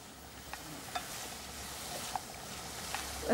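Courgettes sizzle in a hot pan while being stirred, a steady close frying hiss broken by occasional soft scrapes and small pops, with no talking.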